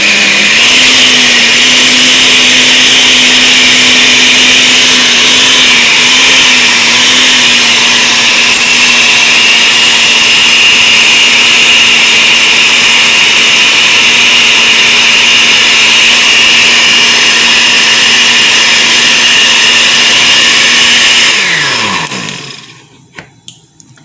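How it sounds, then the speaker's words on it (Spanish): A blender motor whirs loudly and steadily for about twenty seconds while making a dessert, with a slight dip in pitch early on, then spins down and stops near the end. "vamos, prendamos la licuadora."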